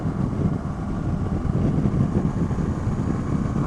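A 2016 Honda CB500X motorcycle cruising at motorway speed, its engine a steady, dense low roar blended with constant wind rush, loud and unbroken with no talking.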